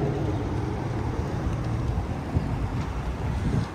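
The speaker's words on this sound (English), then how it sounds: "And the wind just picked back up again." Wind gusts through a downtown Washington DC street among buildings, a steady, rumbling roar buffeting the microphone with a few stronger surges.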